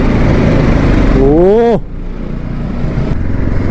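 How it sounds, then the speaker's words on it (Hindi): Motorcycles on an evening group ride roar loudly and close along the road, with a rising and falling whine before the engine noise drops to a lower rumble, and voices mixed in. "ऐसे जैसे रास्तों में भाई साउंड क्या गूंजती है यार बाइकों की"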